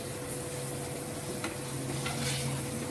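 Boiled fenugreek leaves hit a hot pan of spiced masala, giving a steady close sizzle with soft scraping stirs over it, no voices.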